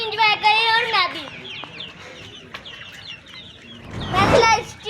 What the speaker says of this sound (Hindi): ये देसी मुर्गा